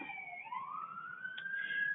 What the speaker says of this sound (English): Apologies for the sirens in the background if you're hearing those right now.